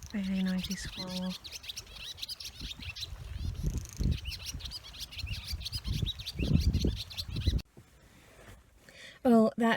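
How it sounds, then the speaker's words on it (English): A squirrel chatters noisily beside a walk near Loch Thom on the Greenock Cut, with rapid repeated chirps and scolding calls interrupted by a person speaking nearby and rustling footsteps. "Very noisy squirrel."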